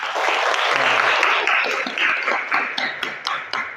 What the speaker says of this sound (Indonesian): Kasih tepuk tangan untuk Mas Singgi.